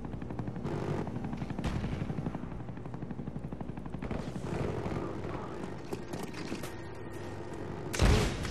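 A Huey helicopter in Black Ops multiplayer gameplay thumps with a rapid rotor chop amid bursts of gunfire, loud and continuous with a sharp blast near the end.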